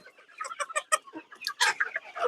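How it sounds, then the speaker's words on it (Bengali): Egyptian Fayoumi chickens on a farm cluck in a quick run of short, close, clear calls, several birds overlapping, with no talk. "আমাদের মিশরীয় ফার্মি মুরগিগুলো কতটা চঞ্চল এবং কতটা সুন্দর দেখতে"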